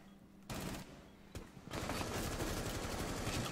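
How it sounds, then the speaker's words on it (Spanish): Rapid automatic gunfire in Rainbow Six Siege, with loud dense bursts after a brief quieter pause and a sustained fusillade running to the end. "Muévete, que te dispara"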